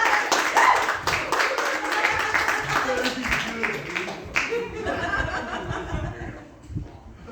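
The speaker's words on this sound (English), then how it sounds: "So you should clap for him and yourself." Comedy club audience claps steadily for several seconds, with scattered chuckles and laughter mixed in, loud and close, thinning out toward the end.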